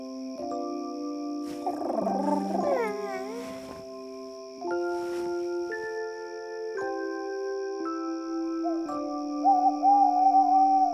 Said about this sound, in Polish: Sowa! A może potwór?